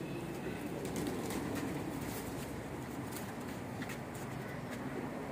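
Pigeons at a breeder's loft near a park coo softly beneath a constant, dense outdoor background rumble.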